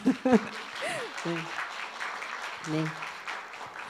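A church congregation at a Sabbath School service claps, a steady spread of applause running beneath a speaker's brief words.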